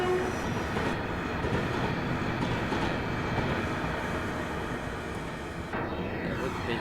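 A Class 385 electric multiple unit in Train Simulator Classic, on the Glasgow to Dunblane and Alloa route, rumbles past steadily and loudly in a broadband roar, with faint wheel clatter as it goes by.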